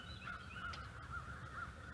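Crows cawing outdoors on a homestead, a series of harsh caws repeating every half second or so, moderately distant and faint over a low background rumble.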